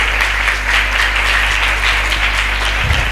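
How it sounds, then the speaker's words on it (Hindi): A church congregation claps hard and steadily, a dense wash of applause that holds at the same level throughout with no voices over it. "जोरदार तालियां बजाएंगे।"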